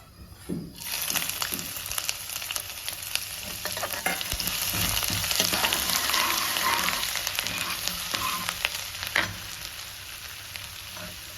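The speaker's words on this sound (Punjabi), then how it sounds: "ਬਸ ਅੱਧੇ ਕਿ ਮਿੰਟ ਦੇ ਲਈ ਆਪਾਂ ਨੂੰ ਭੁੰਨਾਂਗੇ ਅਦਰਕ ਪਾ ਹਾਂ" Ginger roasts in hot oil in a pan, a loud, close, continuous sizzle that swells after the first second, with stirring clatters scattered through it.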